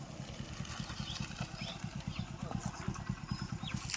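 A motorcycle engine pulses steadily at mid volume, its low throb running the whole time. Faint voices and outdoor noise sit behind it.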